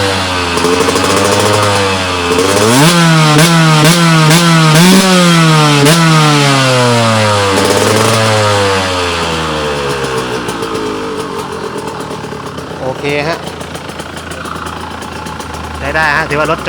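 A KTM 125 motorcycle engine that has been parked for a month fires up cold, revving sharply several times before settling into a loud, uneven idle with occasional blips, close by, with someone talking over it.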